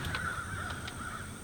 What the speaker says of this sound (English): look at all these darn pecan robbers, all these crows out here